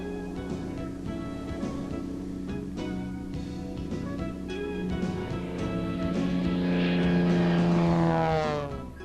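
A Steen Skybolt aerobatic biplane's piston engine and propeller drone steadily and loudly, the pitch sliding downward as the aircraft passes close by.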